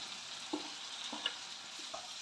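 Chopped tomato, onion and curry leaves for a chicken curry are stirred in a pan, with a few soft scraping strokes over a faint, steady sizzle and no voices.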